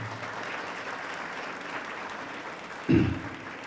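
Audience clapping at a protest-themed public talk, a steady even wash of applause from many hands throughout, with a short louder thump near the end.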